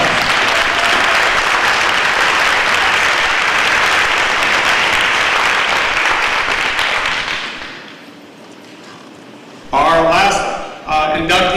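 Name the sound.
audience applause at a hall of fame ceremony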